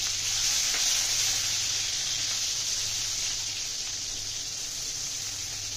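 Onion dropped into a pan of frying shrimp, giving a loud, steady hissing sizzle that holds evenly throughout, close and with no talk.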